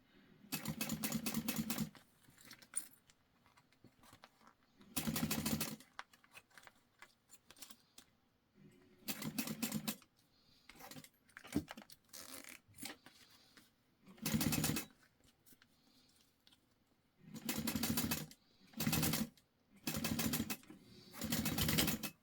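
A sewing machine top stitches through a jelly vinyl pouch with a front panel folded over a flat zipper tape, running in loud repeated bursts of rapid, steady stitching broken by short quiet pauses.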